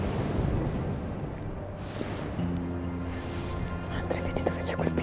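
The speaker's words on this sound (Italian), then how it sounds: "Oggi c'è il vento forte" Strong wind roars and buffets the microphone in loud gusts, easing and returning, with a faint voice murmuring underneath.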